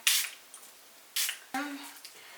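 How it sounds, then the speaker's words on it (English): Two short bursts of water from a spray bottle during a soap-brow makeup routine, crisp hissy spritzes near the start and middle, followed by a brief tonal voice-like sound. "Spritz some water."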